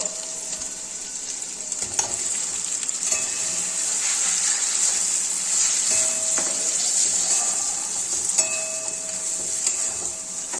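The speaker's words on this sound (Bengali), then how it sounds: "এবার আমরা এর মধ্যে ডাল মাখাটা দিয়ে দেব।" Lentil paste for dal puri frying in a pan with lightly fried spices, giving a steady close sizzle broken by occasional stirring scrapes, with no talk.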